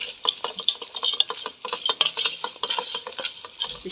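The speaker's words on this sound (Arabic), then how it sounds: "معانا كده مكرونه هنشوحها مع البصل الاول" Macaroni being stirred and sautéed in oil with onion and garlic in a pot, a busy run of close scraping and clinking spoon strokes over a faint sizzle.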